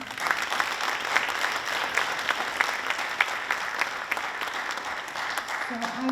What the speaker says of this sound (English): Once again, nice round of applause.